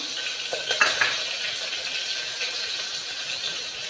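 Two dried red chillies go into a hot cooking pan for a broad bean and tomato curry, giving a light sizzle with a few soft clinks and rattles of utensil against pan, up close and without talk.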